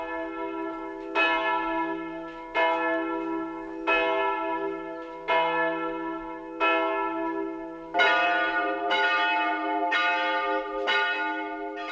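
Church bells ringing at noon in Hungary, a sequence of loud, resonant strikes about every 1.3 seconds, each ringing out with a long harmonic decay, the peals growing fuller and denser toward the end with no voices.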